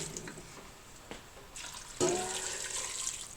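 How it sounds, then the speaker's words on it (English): Water runs from a tap and pours into a stew pot holding potatoes for an Irish stew, starting with a few small splashes and clinks before a strong, steady gush takes over at close range. "I'm going to add these potatoes with the water, and then we'll cover it with more water as we need to."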